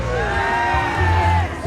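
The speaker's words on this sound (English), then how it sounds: "Can we have you cheering for your favourite ferret down this side?" A crowd cheers and whoops for their favourite ferret at a ferret race, a short burst of loud overlapping shouts and yells from many people close by.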